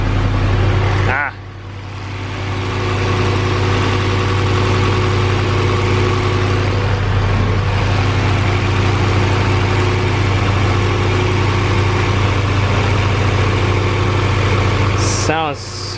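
A Honda B16 engine idles steadily after a swap, a loud, even, low rumble that runs throughout, with a brief dip near the start and a short sharp noise near the end.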